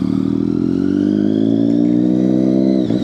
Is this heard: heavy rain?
no